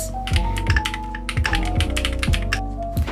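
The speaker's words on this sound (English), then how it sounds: "and I love the typing sounds. It's so satisfying." Fingers type quickly on an iPad keyboard accessory, with a steady run of soft clicky keystrokes and a few heavier thunks, close and clear over faint tonal background music.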